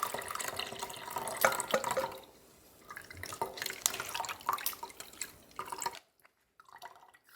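Fresh coconut milk pressed by hand from grated coconut and poured, the first rich, creamy press in a Sri Lankan village kitchen: close, irregular splashing and dripping liquid that stops abruptly near the end, leaving near silence.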